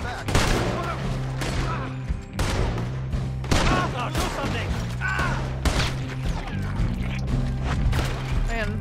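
Dense gunfire in Red Dead Redemption 2, a shootout crackling with rapid overlapping shots and bursts for the whole stretch, loud and continuous over a low musical score with voices shouting in between.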